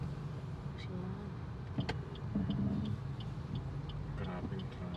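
Slow car traffic on a rainy street in Zamboanga City, heard from inside a vehicle as a steady low engine rumble with muffled passing noise and scattered faint clicks, while people talk quietly.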